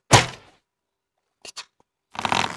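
Shots fired at mobs in the Minecraft video game, a solid thunk with a short decay, a couple of quick small clicks, then another noisy burst of game sound.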